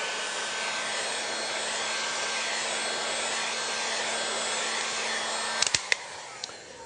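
A hot-air blower heats the rims of chocolate praline bonbons, making a loud, steady rushing hiss with a faint hum that cuts off near the end, followed by a few small clicks and taps.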